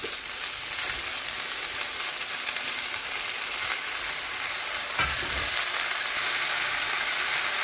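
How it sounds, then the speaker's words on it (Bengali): Loud, steady sizzling of chopped red amaranth leaves frying in a wok, with a fresh burst of hissing partway through. No talking. "দিয়ে দিচ্ছি কেটে রাখা শাক।"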